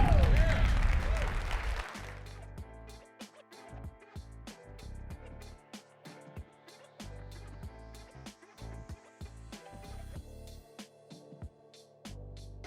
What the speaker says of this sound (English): Give a round of applause to Mike home.